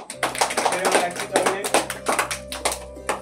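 Hand clapping for a right answer in an Independence Day quiz, a quick run of claps close by, mixed with voices talking over them.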